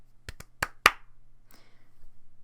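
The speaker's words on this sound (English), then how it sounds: "I apologize if I just clapped way too close to my microphone." Four sharp hand claps land very close to the microphone in quick succession, loud and percussive with a brief ringing tail, followed by quiet background rustle and a low steady hum.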